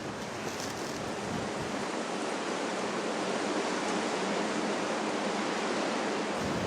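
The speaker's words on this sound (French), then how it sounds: "Toujours le vent. Toujours." Strong wind roars steadily across a boat at sea off Tangier, a dense, continuous broadband rush with waves mixed in, loud and close on the microphone with no voices.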